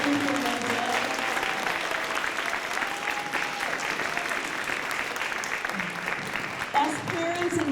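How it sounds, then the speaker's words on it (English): An audience claps steadily for students at a school performance, dense sustained applause from a crowd filling the room without pause, with a few voices faintly mixed in. "Would you please give them another round of applause for everything they did?"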